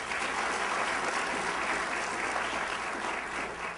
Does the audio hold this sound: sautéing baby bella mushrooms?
no